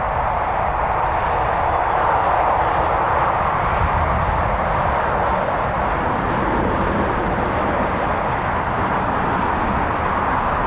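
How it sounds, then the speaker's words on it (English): A Eurofighter Typhoon taxis for departure at RAF Waddington, a steady broad jet roar that holds loud and unchanging from a moderate distance. "we do have a Typhoon taxiing right now for departure"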